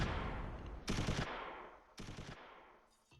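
Smoke mortar rounds fire in the Close Combat III wargame, two sharp broadband bursts about a second apart and each lasting roughly a third of a second, standing out over a fading rumble of battle.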